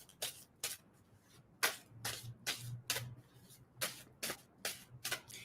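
Tarot cards are shuffled by hand, a quiet run of crisp, papery riffles and taps in an irregular rhythm, each a short burst, close and alone with no talking.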